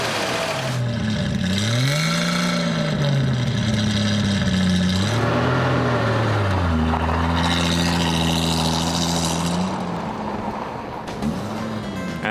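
A Ford Mustang with a 170-cubic-inch (2.8-liter) inline six-cylinder engine revs up and down repeatedly, close and loud, the engine pitch swooping higher and dropping back several times.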